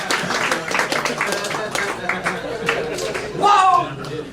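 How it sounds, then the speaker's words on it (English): A studio audience at the Kill Tony comedy show claps loosely, a scattered patter of hands that stays mostly beneath someone speaking over it and swells briefly near the end. "You don't have to clap. You don't have to clap."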